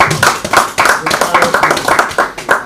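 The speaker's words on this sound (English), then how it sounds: "A round of applause once again." Applause at a Nigerian independence-day public lecture, a few hands clapping close by in quick, uneven bursts, with voices also present.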